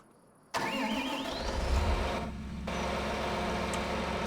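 A tractor engine in Farming Simulator 25 cranks and fires up, settling into a loud, steady diesel idle close by with no talk.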